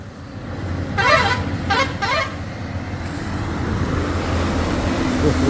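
Traffic roars past on a roadside at a landslide site in Ankola, with two bursts of horn-like tooting near the start over a steady low rumble of passing trucks and buses.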